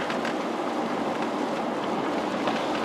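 Steady rain falls on a wet day in the small town of Vermontville, Michigan, an even, continuous hiss at fairly loud level throughout, with no voices or other distinct sounds.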